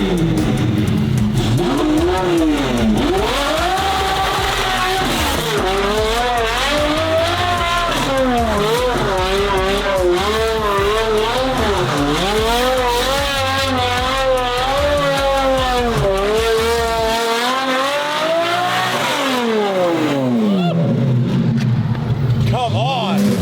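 A rebuilt straight-piped Ferrari V12 revs hard and accelerates close by, loud rising and falling engine sweeps through repeated shifts and tires breaking loose, with people talking over it before it drops to a lower drone.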